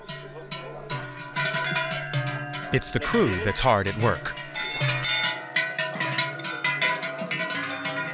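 Cowbells on decorated cattle at an Alpine cattle parade, many bells clanking and ringing together in an uneven jangle at close range, while someone narrates over them.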